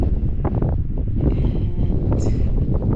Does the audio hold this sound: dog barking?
no